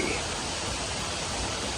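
Irrigation water rushes through a pipe into a rice paddy field, a loud, continuous broadband gush heard close up and alone for under two seconds.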